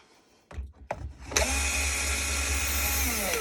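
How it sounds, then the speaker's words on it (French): A cordless screwdriver with a screw clamped in its chuck spins up to maximum speed for a motorcycle ignition key job, giving a steady loud whir after a couple of short trigger bursts. "Et on bloque la vis dans le mandrin de la visseuse. Vitesse maximale."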